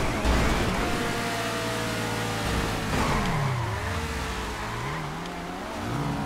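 A car in GTA 5 Online accelerating hard around corners, its engine revving loud and close with rising and falling pitch as it shifts and swerves, alone without talk.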